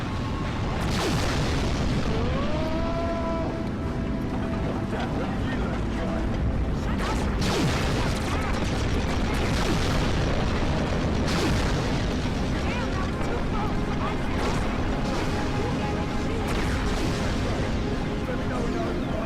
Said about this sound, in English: Even Mother Nature makes an appearance through the powerful display of a volcanic eruption.